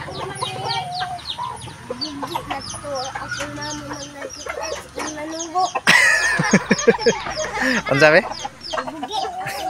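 Chickens clucking and crowing on a Filipino farm, busy repeated clucks close by, a louder outburst of squawking partway through, with people talking in the background.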